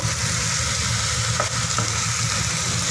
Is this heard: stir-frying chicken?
yes